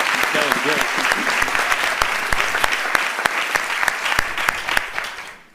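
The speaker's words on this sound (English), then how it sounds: "I think my friend Osazi deserves extra round of applause for that" Audience applause for a student speaker at a graduate school event, a full crowd clapping steadily for several seconds with a few sharper claps standing out, fading at the end; a voice is briefly heard early on.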